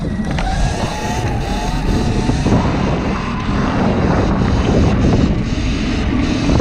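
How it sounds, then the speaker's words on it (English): Strong wind buffets the microphone continuously, a loud roaring rush with low rumbling gusts throughout and no voices. "Windy."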